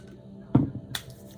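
A single clap of wet hands during a cleansing with Florida water, a short sharp burst close by, with a faint splash after it.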